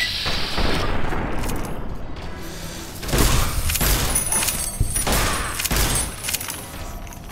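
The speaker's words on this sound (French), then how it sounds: "Ils y vont au fusil à plasma, les salopards." Plasma rifle fire in Fallout: New Vegas: a dense, continuous barrage of repeated energy-weapon shots and impacts, loud and close, with heavier bursts around the middle and end.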